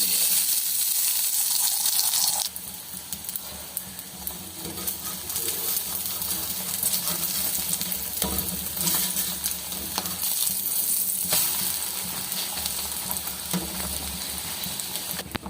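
Loud, continuous sizzling of egg frying on a hot tava griddle, with crackling and occasional stirring scrapes running steadily throughout.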